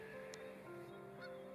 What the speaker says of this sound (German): Ja, Kanada-Gänse.